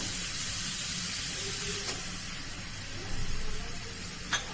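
Grated coconut fried with whole spices in a little oil for a kachori filling gives a soft, continuous sizzle close by, with faint stirring scrapes and a couple of brief clicks.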